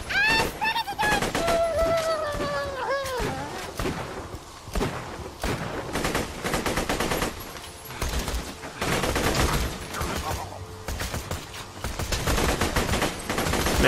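Rapid bursts of gunfire from the video game Borderlands 2 on Xbox One, dense overlapping shots and automatic fire running loud and nearly continuous throughout, with brief game effects and a voice talking in between.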